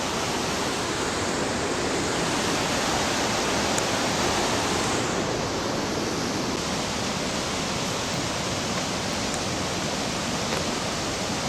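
Looney Creek in Lynch, Kentucky rushes steadily, a loud, continuous broadband wash of flowing water heard up close with no talking.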